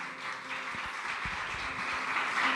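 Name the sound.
congregation applauding in church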